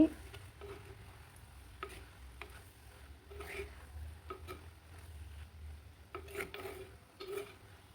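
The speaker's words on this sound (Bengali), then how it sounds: "একটু জিরার গুঁড়া দিয়ে নেড়ে চেড়ে দিচ্ছি" Black taro curry with peas is stirred in a pan after cumin powder goes in, making soft, quiet scraping ladle strokes and light taps over a faint low hum.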